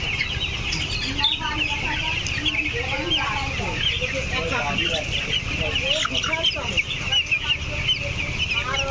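Chickens cluck and chirp continuously inside a poultry farm shed of young broiler birds about fifteen days old, a dense overlapping flock chorus at steady, fairly close level with constant background hum.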